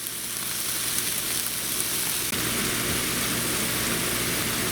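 Burgers fry in a pan with a steady, close hiss and sizzle that carries on evenly without pause.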